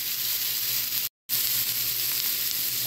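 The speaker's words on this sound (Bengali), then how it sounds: "এখন সবজির সাথে চিকেনটা ভালো করে একটু ভেজে নিব।" Grated chicken sizzles with vegetables in a hot pan, a steady broadband frying hiss that drops out for a brief moment midway and then resumes.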